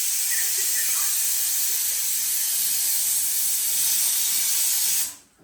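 A pressure cooker in a home kitchen lets out a long, steady steam whistle, a loud continuous hiss that holds evenly for several seconds and then quickly fades away.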